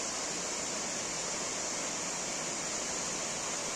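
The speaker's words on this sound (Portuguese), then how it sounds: "Cachoeira do Zinco" Cachoeira do Zinco waterfall in misty weather, a steady broadband rushing roar heard at moderate distance without any voices.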